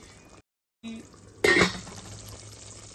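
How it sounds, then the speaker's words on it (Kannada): Water poured into a pan of chana masala, a sudden splashy rush with metallic clinks after a short silence, settling into a steady sizzle and bubble, with brief kitchen clatter before it. "ನೀರನ್ನು ಹಾಕೋಣ."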